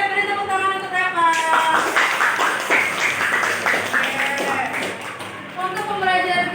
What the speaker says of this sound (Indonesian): Yang lainnya beri tepuk tangan untuk Reva